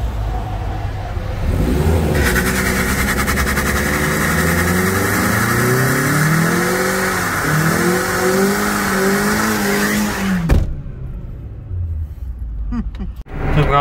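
Opel Zafira drifting: the engine revs loudly and rises and falls through long slides while the tires squeal continuously, ending in an abrupt stop and quieter noises.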